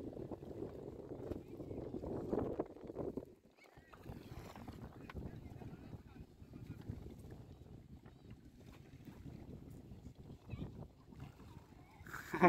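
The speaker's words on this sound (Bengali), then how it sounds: "বাতাস এত পরিমাণ বাতাস এই জায়গায়" Strong wind buffets a small fishing boat on a river in open floodplain wetland, rumbling and gusting against the microphone while people talk nearby.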